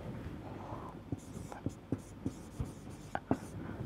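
Writing a Taylor series expansion by hand, a pen or chalk tapping and scratching out short strokes in a series of distinct ticks, close but quiet against a low background hum.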